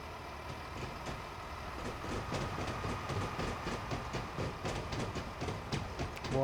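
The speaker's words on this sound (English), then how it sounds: "I hear a train." A train passes in the Train Sim Classic video game on the Marsdonshire route, with a steady low rumble and faint rhythmic wheel clatter that grows slightly louder toward the end. No voices are heard.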